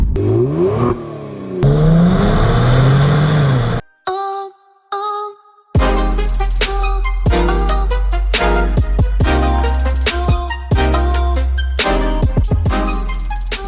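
A 2019 Kia Stinger GT twin turbo accelerates hard, with an engine roar rising in pitch through the gears, a brief interruption of electronic tones, then a loud, punchy run of rapid revs and shifts.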